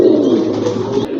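Fancy pigeons give a loud, close, continuous coo that rolls on through a short stretch of sound without any talking.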